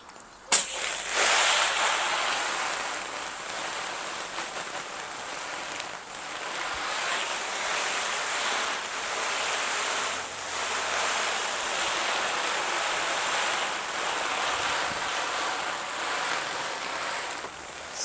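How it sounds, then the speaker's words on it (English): A garden hose spraying low-pressure water onto a two-person tent in a rain test, a continuous broad hiss of water striking fabric that runs steadily for the whole stretch after a brief start, close and loud, with no talking. "I'm going to do a rain test just using a hose and see if we get any water inside"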